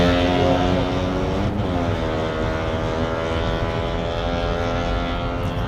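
An Isuzu Panther engine roars steadily and loudly throughout while driving Surabaya city streets at night, a dense droning growl with a rising and falling pitch, close by and with no voices.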